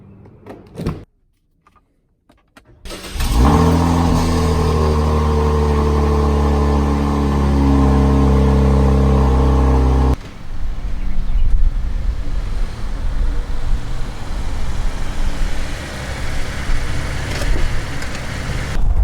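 After a door thunks shut, a Cadillac CTS-V Sport engine starts and idles with a loud steady rumble, then the sound shifts to rougher driving noise and wind as the car moves off.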